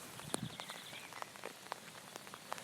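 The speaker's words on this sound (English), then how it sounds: "today it is raining, quite spectacularly in fact" Quiet, steady rain patters with scattered individual drops tapping on a surface nearby.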